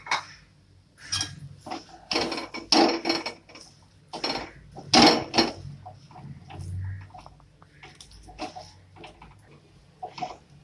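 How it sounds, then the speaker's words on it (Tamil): Softened drumstick leaves going into a pan for paruppu urundai kuzhambu, heard as scattered utensil clinks and scrapes against cookware in irregular bursts, close and moderately loud, with no talking. "இப்போ நம்ம உருகி வச்சிருக்க முருங்கைக்கீரையை நம்ம போட்டுடலாம்."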